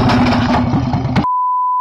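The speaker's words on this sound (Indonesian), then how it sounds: "Motor trail yang kecil." A small trail motorcycle idles close by with a steady, low, lumpy engine rumble for just over a second, then it cuts to silence broken only by a thin electronic tone.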